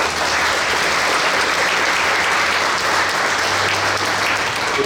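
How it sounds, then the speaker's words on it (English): A book fair closing ceremony audience claps steadily for a dense, sustained round of applause that holds at an even loudness from start to finish, with no voices breaking through. "Please give them a round of applause."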